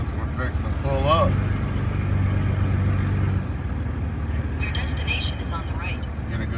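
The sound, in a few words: truck pulling up and idling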